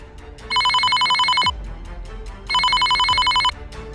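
Telephone ringing with two loud electronic bell-like trills, each lasting about a second and separated by a short pause, heard close and clear over a quiet background.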